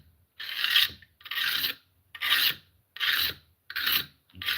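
A tool is sharpened on a 200 grit stone in five even, close rasping strokes, each about half a second long and separated by short silent pauses.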